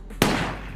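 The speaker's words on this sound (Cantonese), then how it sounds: "阿 Ken 嗰邊有人開槍啊？" A single sharp gunshot cracks once in a TVB action drama, a sudden close bang followed by a short ringing decay, then quiet.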